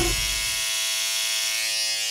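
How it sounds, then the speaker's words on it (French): Electric razor shaving off eyebrows, a close, loud, steady buzzing drone that runs unbroken for the whole stretch after a brief rustle at the start. "C'est parti, on rase les sourcils."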